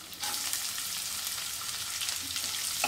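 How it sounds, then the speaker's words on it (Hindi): Chopped onions frying in a pan for suji upma, giving a steady, close sizzle that runs the whole time without pause. "प्याज को भी लगातार चलाते हुए अच्छे से भून लेंगे"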